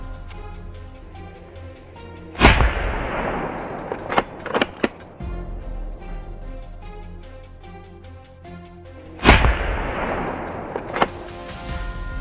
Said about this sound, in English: An explosion echoed throughout the forest. The wild boar tried to escape, but my friend fired another shot